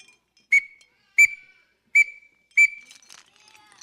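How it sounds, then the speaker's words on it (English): An old wooden soldier's whistle from George Washington's era gives four sharp, shrill blasts at even intervals, loud and close, followed by a few fainter trailing chirps. "this one is a soldier's whistle from the days of George Washington."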